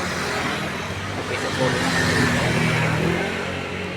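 Busy road traffic with many cars and trucks passing, a continuous rushing engine and tire roar that swells slightly in the middle, with a person talking over it.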